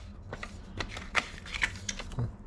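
A deck of playing cards is handled and flicked at a game table, soft close riffling and light taps in irregular bursts, with faint background noise.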